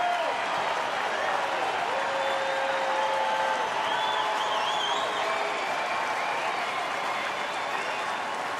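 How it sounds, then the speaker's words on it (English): Sustained crowd cheering and applause fill a baseball stadium, Seattle at Detroit, as the count reaches two strikes; the roar is loud and steady throughout, with whistles and shouts rising above it. "Here comes the crowd again."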